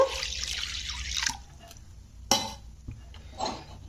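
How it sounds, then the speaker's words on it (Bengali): Water poured into a wok on a stove for cooking fish roe, heard as a short splashing pour followed by a metallic clink and a few faint drips and rustles, close by. "তো কিছুটা পরিমাণ জল দিয়ে দিলাম কড়াইয়ের মধ্যে"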